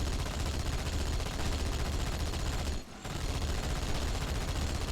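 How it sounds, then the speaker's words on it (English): Sustained gunfire in Halo 2: Anniversary, a dense, loud, continuous stream of rapid shots that cuts out briefly near the middle and then resumes at full intensity. "I think I'm shooting through the box"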